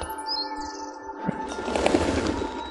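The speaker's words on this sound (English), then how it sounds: "Hello, pigeons." Pigeons in the video game Stray coo and flutter nearby, soft bird calls and wing flaps rising over a low ambient game hum in a short burst.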